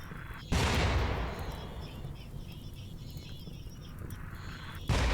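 Heavy mortar bombardment in RimWorld lands as two loud booming impacts, each with a long rumbling, hissing tail and a brief gap between, over a steady background din.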